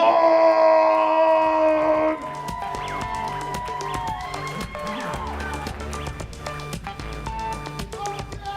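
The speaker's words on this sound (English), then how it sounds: "Everybody give it up. One big clapping time." An audience at a comedy show claps for a comedian, a sustained patter of many hands that starts after a brief held tone and continues steadily to the end.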